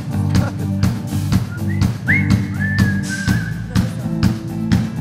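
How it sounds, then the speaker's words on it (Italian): A person whistles a sliding, held melodic tone over music and background sound in a theatre setting, one clear whistle rising then sustained for about two seconds mid-clip. "Un fischio si fa."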